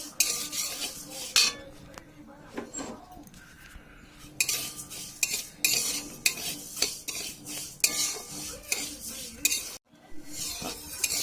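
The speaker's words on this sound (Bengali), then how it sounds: "কড়াইটা গরম হয়ে গেছে, আমি ফার্স্টে মুগের ডালটা ভেজে নেব।" Mung dal is dry-fried and stirred in a hot kadai for a sabudana khichuri, giving busy, irregular metal scrapes and clinks of a spoon against the pan over a light sizzle, close and continuous with no speech.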